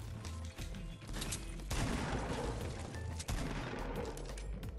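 Burst gunfire in the Fortnite video game on PS4: dense, loud rapid volleys of shots crackle throughout, with a brief dip and then heavier bursts, with no talk over them.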